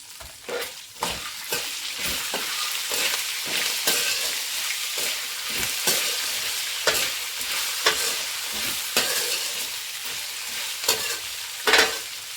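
Curry leaves crackling and frying in oil over a low flame while puffed rice churmuri is made, a steady fine sizzle broken by sharp pops and stirring clinks throughout, close and fairly loud with no voices.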